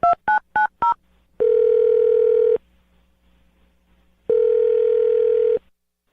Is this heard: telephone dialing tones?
yes